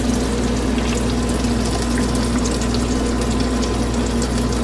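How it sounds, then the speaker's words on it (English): Heavy whipping cream poured into a pot of potatoes being readied for garlic mash, making a steady, continuous liquid rush that stays close and even throughout with no talking. "I'm going to go ahead and pour some heavy whipping cream in there."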